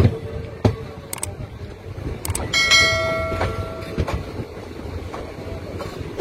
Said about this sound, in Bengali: আর এই যে আমাদের ট্রেন যাচ্ছে, এটা যাবে নলহাটি, রামপুরহাটের দিকে।